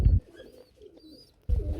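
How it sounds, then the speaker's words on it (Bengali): Running pigeons kept for sale coo in deep, low bursts at the start and end, close and fairly loud, with faint chirps and a quiet gap between the calls. "কবুতর না ডাকলে কি আর কবুতর হয়"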